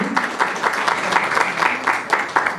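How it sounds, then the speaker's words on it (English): An audience at a book launch and documentary event applauds, with dense, steady clapping that carries through the whole stretch and some faint voices mixed in. "I'd like to give a round of applause for everybody that's been involved in that"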